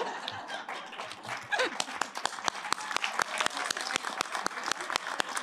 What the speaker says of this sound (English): Let's just keep clapping